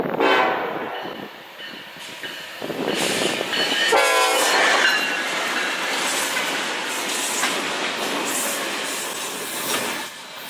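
Illinois Central locomotive 1025 on a northbound light-engine power move rolls past on the New River Line, with a loud horn blast, rumbling engine and clattering wheels, heard close and then fading slightly.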